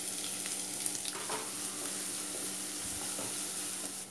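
Finely chopped onion with garlic sautéing in a pan for Schezwan veg hakka noodles, a steady close sizzle with scraping stirs and spatula clinks running throughout, no voices.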